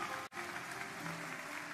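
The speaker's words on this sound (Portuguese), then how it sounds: "Aplaude o Senhor bem forte" A church congregation applauding during a Pentecostal sermon, steady moderate clapping with a brief dropout near the start, then continuing evenly to the end.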